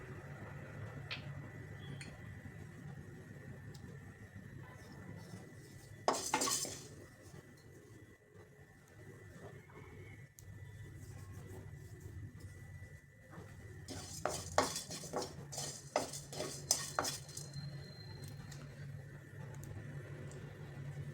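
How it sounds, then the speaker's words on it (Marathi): Coriander, fennel and cumin seeds dry roasting in a kadai, with two bursts of scraping and clinking from stirring standing out over a quiet, steady background. "तर आता कढई ठेवली तापण्यासाठी त्यामध्ये घालायचे धने बडीसो आणि जिरे हे आपल्याला हलकंसं भाजून घ्यायचे"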